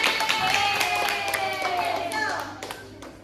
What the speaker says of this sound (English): Big applause for your friend.